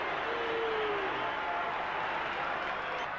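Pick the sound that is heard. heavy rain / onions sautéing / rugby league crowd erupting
rugby league crowd erupting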